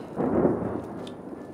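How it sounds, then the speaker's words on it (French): Low rumble of thunder during a storm, heard from inside a tent at night, a single soft roll that swells briefly and fades into faint background noise. "L'orage?"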